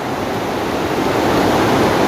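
Heavy rain falls hard around a house with a roof, making a loud, steady, dense roar that fills the whole clip without a break or any voices.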